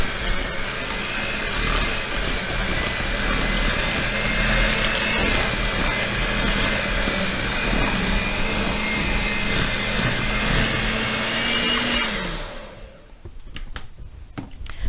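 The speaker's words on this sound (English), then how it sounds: "now I will use my little hand mixer to mix everything together" A small electric hand mixer whirs continuously through a pancake filling of farmer's cheese, a loud buzzing motor with scraping texture that cuts off near the end, leaving brief clatter.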